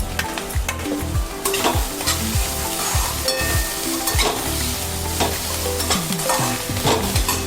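Ginger and garlic frying in hot oil for a spicy roasted-eggplant bharit, with a loud constant sizzle punctuated by frequent scraping strokes of a spatula stirring the pan.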